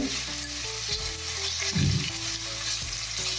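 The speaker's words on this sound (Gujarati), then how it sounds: "આપણે આને આમ જ આવી રીતે 2 થી 3 મિનિટ માટે સાતળવાનું છે ઘીમાં." Grated bottle gourd sautés in ghee for a sweet halwa, giving a steady close sizzle and frying hiss with occasional stirring scrapes and a brief louder stir near the middle.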